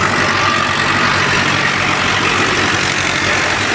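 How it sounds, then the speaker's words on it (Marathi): An Arjun tractor powers a threshing machine during a night urad (black gram) harvest, producing a loud, steady, unbroken drone of engine and machinery at close range with no voices. "आता अर्जुन ट्रॅक्टरला बघा मशीन जोडलेला आहे"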